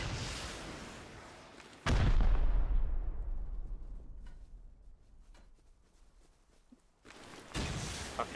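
A heavy burst of explosive ammunition fire in the Rust survival game opens with a loud blast, then fades through a long reverberating tail before a second loud burst hits near the end.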